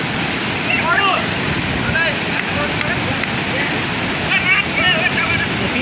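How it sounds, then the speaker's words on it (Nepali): A waterfall at Dudheko Raha near Pokhara, Nepal, roars loud and close in a steady, unbroken wash of falling water, with people talking and exclaiming over it throughout. "यस्तो दामी झरनामा आहा क्या दामी कपाल दामी झरना"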